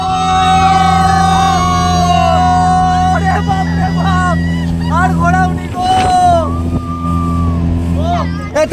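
A speedboat runs across open water, its engine holding a steady, droning hum throughout while several people talk and chatter loudly over it.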